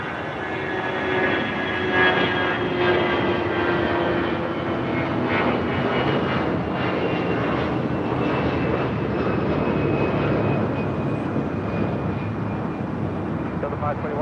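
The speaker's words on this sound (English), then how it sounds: "Taking off there. That was Delta Airlines Flight 521 heading to Dallas." Delta Airlines jet taking off at LAX, a steady loud engine roar holding for the whole stretch, with faint radio-like chatter mixed in underneath.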